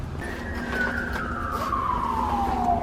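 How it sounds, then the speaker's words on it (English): A police siren wails past outside an abandoned 1920s city utilities building, a single long, falling tone that stays loud and steady throughout. "these cop sirens are just sketching me out every time they race past or start chirping right next to this building"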